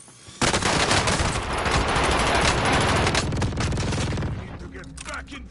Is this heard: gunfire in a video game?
yes